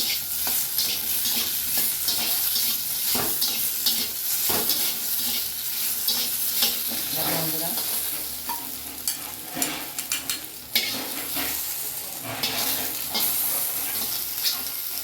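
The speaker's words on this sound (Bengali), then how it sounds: "হালকা করে ভেজে নিলাম।" Bitter gourd fries lightly in a little oil, a steady close sizzle with hissing spits and frequent scraping stirs and clinks of a utensil against the pan, continuous and without talking.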